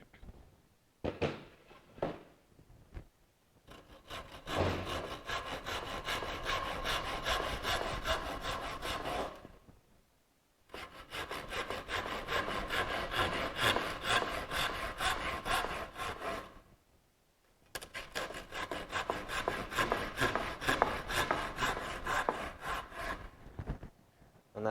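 A hand saw makes relief cuts in wood for a single bevel trestle, three bursts of rhythmic rasping strokes, each lasting several seconds and separated by short pauses, close and clear with no talk.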